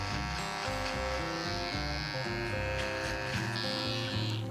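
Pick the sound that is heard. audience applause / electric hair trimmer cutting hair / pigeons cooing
electric hair trimmer cutting hair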